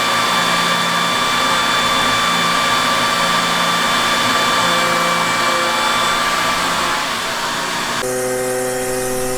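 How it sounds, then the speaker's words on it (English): A CNC mill running a 1/4 inch ball end mill to round the edges of a metal golf course tee marker: a loud, steady high whine and grinding hum throughout, shifting in pitch near the end, with no voices. "we're going to take that 1/4 inch ball and we're just going to clean these edges"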